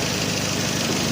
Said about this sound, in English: there's an exhaust leak from the donut gasket